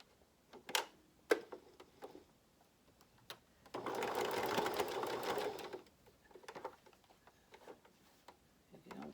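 A sewing machine runs in one close burst of about two seconds while stitching a pleated fabric face mask, framed by scattered ticks and clicks of fabric handling before and after.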